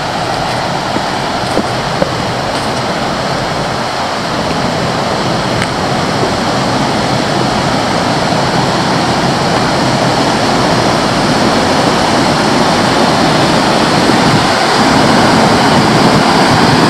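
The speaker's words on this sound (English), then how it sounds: "There's an old logging dam here on the Pickerel River where it flows out of the lake." Water rushes steadily over an old logging dam on the Pickerel River where it flows out of a lake, a loud, continuous broadband roar with no voices.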